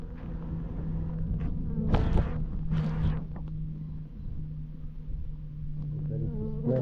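A low buzzing hum of bees around a failed-queen colony's hive, fairly faint, with a couple of louder passes as individual insects fly close.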